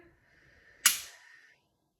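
Single sharp metallic click of a pistol trigger breaking during dry fire practice, close and crisp with a brief ringing decay, in otherwise near silence.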